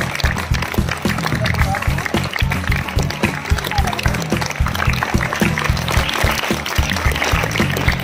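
Sustained applause from a school science quiz contest crowd, dense clapping filling the whole stretch at steady loudness with a low rhythmic thump underneath.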